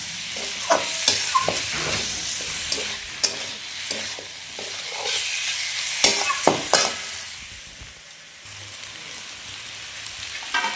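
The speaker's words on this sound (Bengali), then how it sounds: "আলু ভালো করে মশলার সাথে কষিয়ে দিচ্ছি" Jackfruit and fried potatoes stir-fried with spices for an echor chingri dish crackle loudly up close, with frequent spatula scrapes and knocks over the sizzle and no voices.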